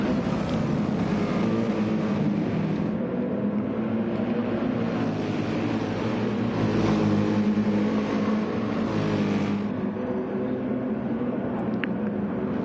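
Race cars battle for position, their engines roaring in a steady, dense blend with swells of acceleration as they pass one another.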